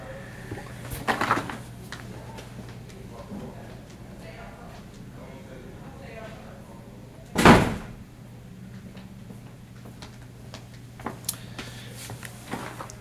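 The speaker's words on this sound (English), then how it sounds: "Stepped up to shut the door, got a little noise going on in the hall." A classroom door is pushed shut with a single loud, sharp thud in the middle, set among quiet room noise and a few light knocks, with a voice talking faintly around it.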